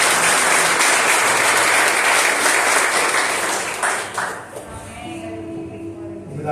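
Church congregation applauding in praise, a dense, loud wash of clapping that thins out toward the end as a voice begins to speak.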